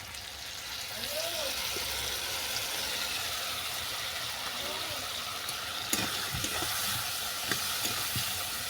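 Fish curry with mustard and sesame paste sautés in a pan, a close continuous sizzle with occasional soft stirring scrapes toward the end, fairly quiet and steady throughout.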